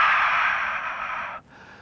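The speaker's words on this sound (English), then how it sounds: "Breathing in." A person lifting at a bench press takes a long, strong breath in that fades, then cuts off abruptly into near quiet.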